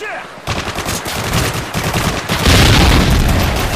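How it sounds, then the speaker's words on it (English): Rapid automatic gunfire in the Modern Warfare 3 Ground War kill confirmed mode, loud dense bursts that start abruptly and build into a sustained heavy barrage near the listener. "Keep shooting at me, come on!"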